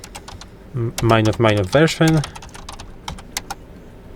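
Quick clicks of a computer keyboard as a command is typed on a Linux terminal, scattered sharp keystrokes before and after a short burst of nearby speech.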